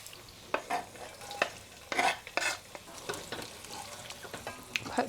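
Onions tossed into a pot while cooking jollof rice, giving intermittent stirring scrapes and a soft background sizzle, close and moderately quiet with no talk.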